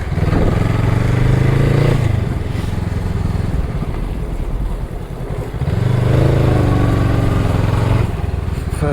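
A Honda Rebel 500 motorcycle engine drones steadily while riding up a hill around a bend, swelling into louder revving bursts near the start and again toward the end, close and continuous with no talk over it.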